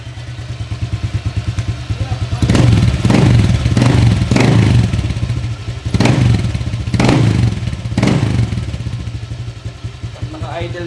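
A motorcycle fitted with an MT8 exhaust pipe idles close by with a steady low chugging, lifted by several short throttle blips that swell and fall back.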